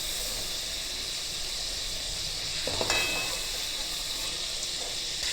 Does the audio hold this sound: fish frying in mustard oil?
yes